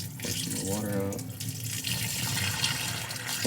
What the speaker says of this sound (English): Pour some more water out.